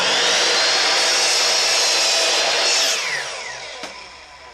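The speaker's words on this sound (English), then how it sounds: "We're going to first cross cut this on our miter saw" A miter saw cross-cuts a wooden top bar for a Layens beehive frame, a loud steady whining cut lasting about three seconds before the blade winds down and fades.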